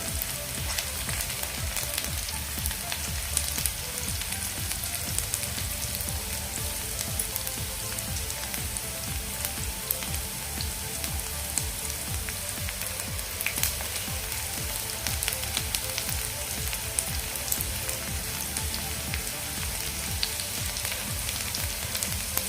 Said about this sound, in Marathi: आता आपण लसूण घालून घेऊया ठेचलेला त्यासोबतच कढीपत्ताही घालून घेऊया